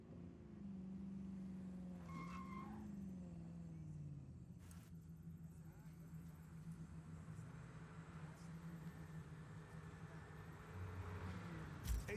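A car in the video game Just Cause 4 drives with a steady low engine rumble that holds for several seconds, briefly rising in pitch early on, with a faint skid or screech and no talking.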